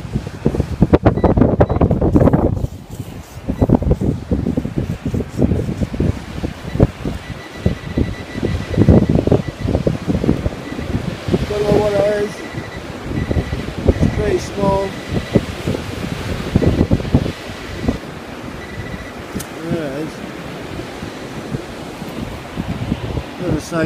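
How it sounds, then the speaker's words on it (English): Steady wind buffets the microphone with rushing, gusty noise over the background of breaking surf on Falmouth beach, while a person talks intermittently throughout. "Sorry, it's so windy."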